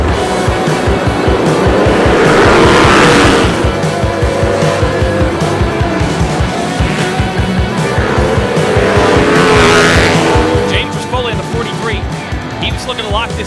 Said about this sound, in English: Let's go racing at Daytona.